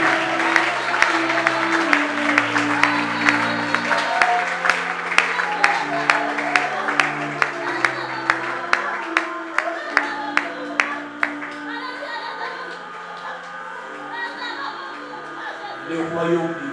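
A church congregation claps and applauds steadily, the sharp clap hits dense at first, then thinning out, with sustained organ or keyboard notes and singing voices over them.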